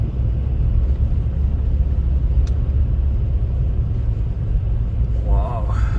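A car drives along a snowy road in Iceland during a December snowstorm, with a constant deep engine and tire rumble filling the cabin and a voice speaking briefly near the end.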